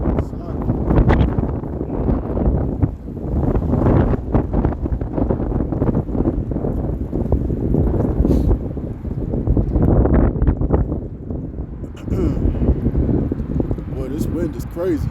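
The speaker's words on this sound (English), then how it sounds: "Boy, this wind is crazy." Strong wind gusts outdoors with constant heavy rumbling and buffeting against the microphone, loud and unbroken, while someone talks throughout.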